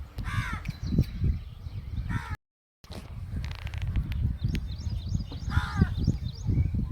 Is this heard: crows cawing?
yes